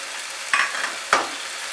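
Spiced masala with tomato puree for cauliflower korma fries in a pan over medium heat, a steady soft sizzle broken by two sharp scraping strokes as a spoon stirs it.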